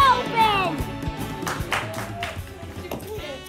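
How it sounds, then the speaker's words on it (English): Children clapping in applause at a school nativity event, a scattered, uneven patter of small hands heard under an adult's voice and children's chatter. "Give them a big round of applause."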